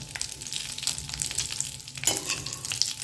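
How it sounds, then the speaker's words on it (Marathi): Eggplants frying in oil with a little turmeric in a pan over a low flame, crackling steadily with irregular stirring scrapes and a sharper burst partway through, no voices. "आता वांगी दोन मिनिट भाजून घ्यायची"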